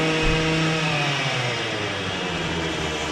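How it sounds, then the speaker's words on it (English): A petrol or diesel leaf blower being tested at an outdoor car boot sale on a showground roars steadily and loudly with a droning engine whine, continuous with no pauses or talk. "it's a leaf blower that they're testing"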